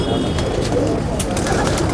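Pigeons kept at a house murmur and coo in soft, low, continuous tones, close by, with faint chirps over a steady background.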